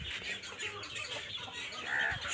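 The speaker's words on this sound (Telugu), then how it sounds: "ఇక మన కోళ్ళు" Chickens on a farm cluck and chirp in a busy, continuous cluster at moderate distance, with no one talking over them.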